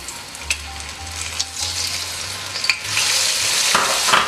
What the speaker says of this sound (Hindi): अब मैं इसे ड्राई मिल्क के अंदर ग्राइंड कर लूँगी और फिर मैं ग्राइंड करके हम इसके अंदर ऑयल में डालेंगे लहसुन का पेस्ट